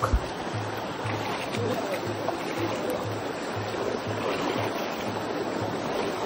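Mountain stream on a hiking trail near a camping site, water rushing in a steady broadband wash that stays continuous and moderately loud, with no talk.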